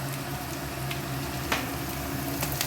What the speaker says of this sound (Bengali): সবজিগুলো প্রায় ভাজা হয়ে এসছে।